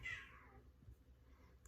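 A house cat lets out a single drawn-out meow at the very start, loud and close, then only faint room noise remains.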